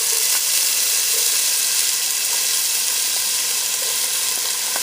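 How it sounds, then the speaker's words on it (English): Onions hit a hot pan already holding ginger and garlic, giving a steady, loud broadband sizzle with faint stirring ticks, continuous throughout with no voices. "To this, we're going to go ahead and add our onions."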